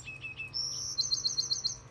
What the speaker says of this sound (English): That is a wren singing there.